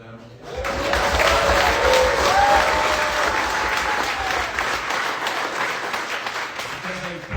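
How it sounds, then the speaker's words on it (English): Concert audience applauds a band at a livestreamed show, close, dense clapping and cheering swelling quickly and holding for several seconds with faint voices within it before fading. "So, a little applause for them."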